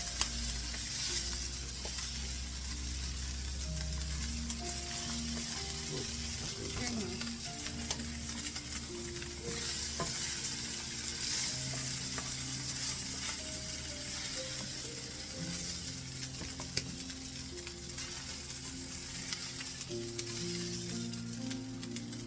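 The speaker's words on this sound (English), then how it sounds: "So here we have our sauce that's slow cooking." Spaghetti sauce slow cooks in a pan with oil, giving a steady close sizzle and simmer that runs unbroken throughout, with no talking.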